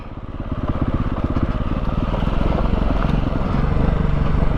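A 2022 Beta 430 RR-S dirt bike putters at low revs along technical single track, its engine firing in a close, steady, slightly uneven thumping rhythm with no speech.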